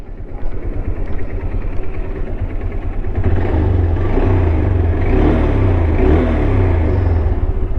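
A Honda Hornet motorcycle engine starts up about three seconds in and settles into a loud, steady running rumble close by, with no talking.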